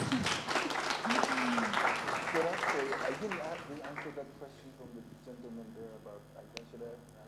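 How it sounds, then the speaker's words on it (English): An audience at a Kenyan youth engagement forum breaks into loud applause that fades after a few seconds, and a speaker's amplified voice then carries on. "Round of applause."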